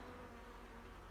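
Elgon honey bees buzz at the hive in a dense, steady hum, close by and continuous for the whole brief moment.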